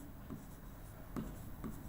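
Marker or chalk drawing a line on a board during a Hindi maths lesson on inverse trigonometric functions, with a few soft scratchy strokes and light rubbing, faint and close.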